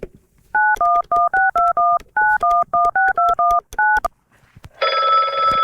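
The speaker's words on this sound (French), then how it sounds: "Ah, ça sonne." A run of about fourteen crisp touch-tone keypad beeps in an uneven sequence, followed by a steady electronic ring tone near the end, loud and close with no talk.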